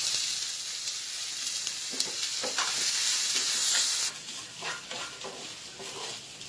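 Bottle gourd seeds and rice sizzle steadily in a hot pan, a bright hiss joined by a few scraping stirs before the sizzle softens partway through.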